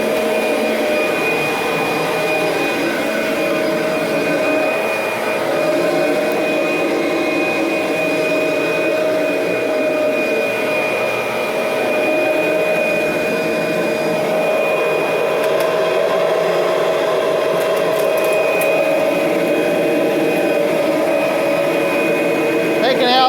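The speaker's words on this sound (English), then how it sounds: "Now vacuum this throw rug in neutral." A 1991 Kirby Generation 3 upright vacuum cleaner runs steadily on a throw rug in neutral, a loud, close, unbroken motor whine with a strong high tone, holding level throughout with only slight surges as it is pushed.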